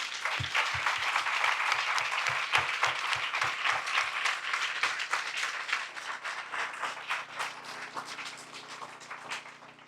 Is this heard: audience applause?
yes